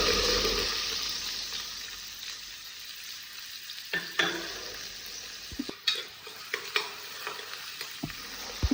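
Large onions drop into hot oil with cinnamon, cloves, cumin, fennel and star anise for chicken kabsa. A loud burst of sizzling gradually settles while scattered spatula knocks and scrapes stir the pan.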